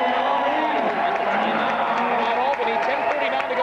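A packed crowd roars loudly and without a break at the Heather Athletic Center during a 1995-96 NECC quarterfinal men's basketball game between Le Moyne and UAlbany, with a commentator talking over the din.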